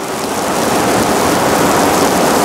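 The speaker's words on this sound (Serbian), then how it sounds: "Mislio sam da smo pobegli od kiše, ali izgleda da nas prati od Alpa." Rain falls outdoors in the mountains of Slovenia, a loud, dense, even hiss that fills the short stretch with no voices.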